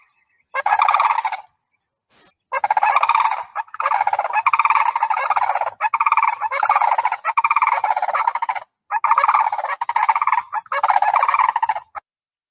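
Loud rattling, trumpeting sandhill crane calls on a golf course repeat in long bursts separated by short pauses, close and harsh, with no voices.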